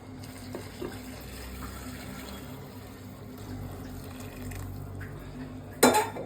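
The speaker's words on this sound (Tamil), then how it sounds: "தண்ணி ஊற்றிருக்கம்மா" Water is poured into a pot of chicken biryani, a soft, steady trickling and splashing close by, ending in a sharper clatter of a vessel near the end.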